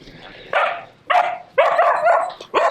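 Puppies in a doghouse yap and whimper in a run of four close, high-pitched bursts with short pauses between, loud and near, with no talking.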